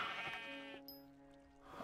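A single sheep bleats in the Minecraft video game on Xbox 360, a short, quiet wavering cry heard alone over faint in-game background.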